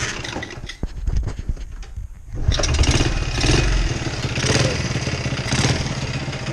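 A 1972 Honda CT70H motorcycle engine runs close by with a little throttle, its steady buzzing idle rising and swelling in a few gentle revs over some clattering.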